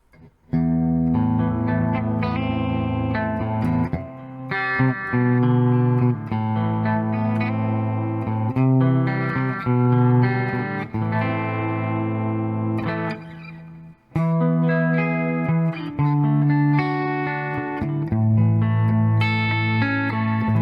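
A 2011 Epiphone Les Paul Jr electric guitar in a clean tone plays sustained chords and melodic lines, notes ringing out clearly with a short pause midway.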